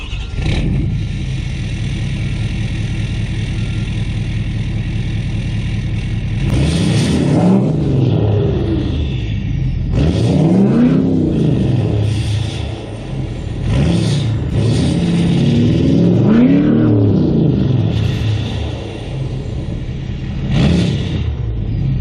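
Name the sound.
2018 6.7 Powerstroke diesel truck with 5-inch straight pipe exhaust starting and revving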